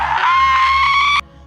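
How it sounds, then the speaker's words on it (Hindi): A woman's scream as a horror-story sound effect, a single loud, sustained shrill cry lasting about a second that cuts off abruptly, with a low hum continuing underneath. "अचानक करीब 5 मिनट के बाद उसके चीखने की आवाज़ आई"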